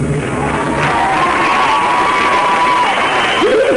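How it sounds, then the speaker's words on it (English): Crowd at a 1993 natural bodybuilding contest cheering loudly during a posing routine, a continuous roar with whoops and a few shouting voices rising above it. "Crowd's eating it up."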